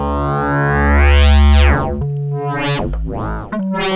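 A Pittsburgh Modular Voltage Research Laboratory synthesizer plays a loud wave-folded sine tone, its harmonics sweeping up and down in bright, buzzing arcs over a steady low drone, alone without talk.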